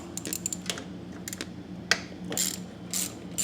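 A ratchet backs out 3/8 bolts from the oil filter guard of a mower with Hydro-Gear ZT-2800/3100/3400 transmissions, giving quick bursts of close, crisp pawl clicking with short pauses between them and no talking.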